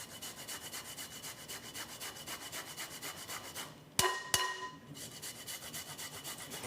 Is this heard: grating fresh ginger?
yes